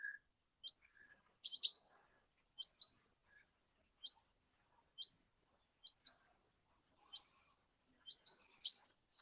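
A small bird tweeting somewhere overhead on a quiet outdoor stroll, with short sharp chirps spaced irregularly and a brief rapid trill near the end, faint against near silence.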